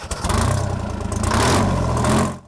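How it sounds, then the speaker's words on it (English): An old tractor powered by a 371 Detroit diesel engine runs close by, a loud, continuous rough rumble with a clattering, pulsing throb that holds steady for a couple of seconds before cutting out. "It's also got a 371 Detroit diesel engine in it, which is kind of normally called the Screaming Jimmy, because it does make a lot of noise."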